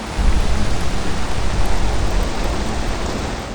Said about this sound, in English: The radiation is kicking in, big old thunder and stuff.